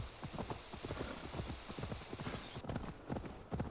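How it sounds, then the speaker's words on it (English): Horse hooves clip-clop at a steady trotting rhythm in the video game Assassin's Creed Valhalla, close and fairly quiet, continuing for several seconds with no talking over them. "Let me hop on my horse, bro."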